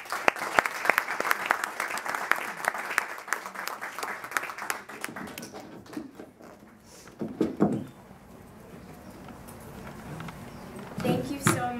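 Audience applause for three panelists at a Muslim mental health conference session on parenting and families, with dense clapping that fades midway and then picks up again in scattered bursts.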